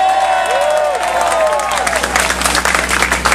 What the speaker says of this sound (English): Everyone applaud Ben as he walks up.